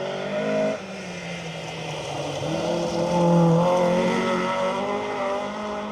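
1600 Datsun SSS rally car on a forest stage of the Roger Albert Clark Rally, engine droning and revving as it drives by at moderate distance, pitch rising and falling between gear changes.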